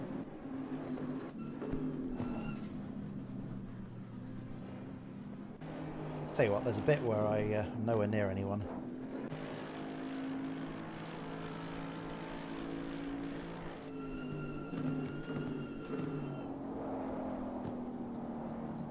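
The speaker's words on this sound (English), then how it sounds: "Exhaust sounds spot on." Race car exhaust from the Assetto Corsa Competizione sim racing game, heard from an outside camera: a droning engine note rises and falls through the gears under someone talking over it.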